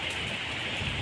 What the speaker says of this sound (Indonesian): Tapi ini lagi hujan, jadi takut basah.